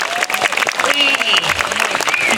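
Crowd applause at a Calonarang performance at a Balinese temple in Buleleng, loud dense clapping with voices and cheers mixed in over a short stretch.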